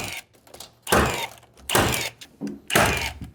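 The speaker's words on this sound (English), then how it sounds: "I actually had to lift up the back end and put that nail in." A nail is driven into a warped wooden wall stud with three loud, sharp hammer blows about a second apart, each a hard thunk with a short ring, plus softer taps and handling noise in between.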